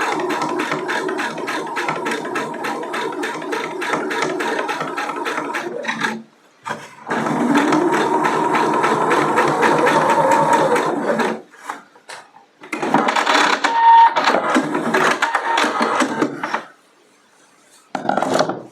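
Sewing machine stitching a half-inch seam in folded fabric, a rapid mechanical whirr in long runs separated by short pauses, loud and close with no talk over it.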